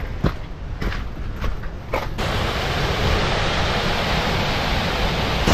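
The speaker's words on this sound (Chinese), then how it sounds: "这个瀑布呢，它的水量大多都是从这个冰河流下来的" A powerful waterfall in Norway, fed by the Briksdalsbreen glacier and carrying about 10,000 litres per second, roars as a dense, steady wash; a few sharp clicks and footsteps come first, then the roar fills everything.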